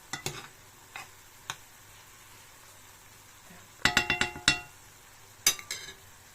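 Apples caramelizing in a pan are stirred with a utensil, bringing sharp scraping clinks and knocks in irregular bursts over a faint low sizzle, close and with no talking.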